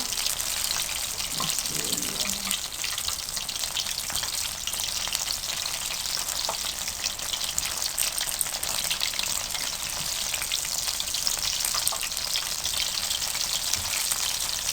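Green masala pakoras deep-fry in a kadhai of hot oil, giving a loud, dense, unbroken bubbling sizzle that holds steady from start to finish without talk.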